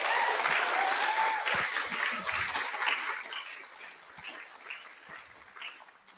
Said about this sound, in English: How about another round of applause for the amazing writer-director of this film?